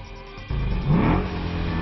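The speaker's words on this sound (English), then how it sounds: "The engine was turned on and its roar was overpowering." Race car engine starting up and roaring as it accelerates on a track, a sudden loud jump in level followed by a rising, overpowering drone heard from close by.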